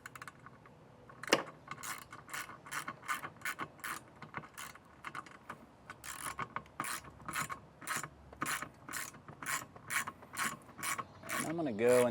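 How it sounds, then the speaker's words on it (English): An 11mm socket and wrench ratchet a lock nut down onto a MORryde telescoping hand rail on a 2017 Jayco RV, giving a steady run of close, crisp clicking strokes in short bursts, with no talk. "Now we're gonna be needing an 11mm socket and wrench to tighten this down."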